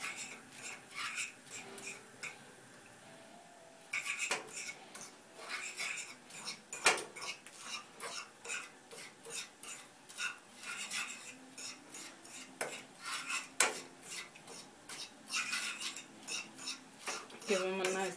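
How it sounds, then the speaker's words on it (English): Breadcrumbs being stirred into melted butter in a pan for lobster mac and cheese, with repeated scraping and clinking of a utensil against the pan, quiet and close. A voice speaks intermittently. "And then you're going to go ahead and add in your breadcrumbs. And just kind of mix this in just like this."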